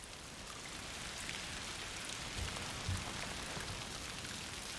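Steady rain falls on surfaces in the video game A Plague Tale: Requiem, a constant hiss of drops spread evenly throughout with no talk over it.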